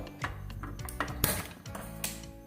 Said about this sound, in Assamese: এতিয়া মই কেৰাহীটো পাতি দিছোঁ